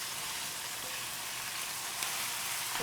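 Vegetables frying in a hot pan give a steady, dense sizzle that carries on evenly from start to end, close and fairly loud, with no voices.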